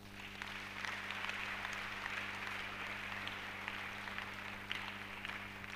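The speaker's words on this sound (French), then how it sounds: "Acclamez Jésus." A church congregation applauding for Jesus during a sermon, a steady even wash of clapping that holds for several seconds over a low constant hum.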